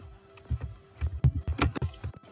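Fingers tap out a quick, irregular run of clicky keystrokes on a computer keyboard, close and clear, with no talking over them.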